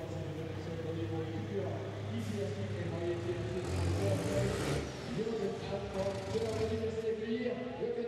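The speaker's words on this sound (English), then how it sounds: "You can hear some of the other trucks making their way around on the circuit." Racing trucks run around the Le Mans circuit, making a steady, distant engine drone with swelling revs and passing rumbles. A commentator talks over it.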